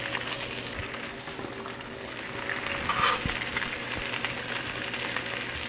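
Burger ingredients sizzle steadily on a Blackstone flat-top griddle, a dense, continuous crackling hiss with occasional soft spatula taps, close and even throughout.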